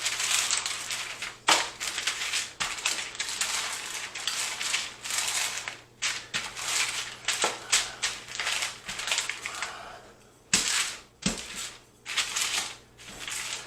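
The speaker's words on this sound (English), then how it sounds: "Cover it with some parchment here. And we're just going to roll it out to the size that we want." Fathead keto pizza dough made with almond flour being rolled out between parchment paper sheets, a close, steady crinkling and rustling of paper with periodic heavier thumps and no talking.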